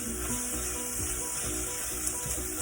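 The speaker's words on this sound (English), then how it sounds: "I'm going to saute these onions and mushrooms on medium heat" Onions and mushrooms sauté in a pan over medium heat, giving a steady, close sizzle of frying with faint stirring scrapes underneath.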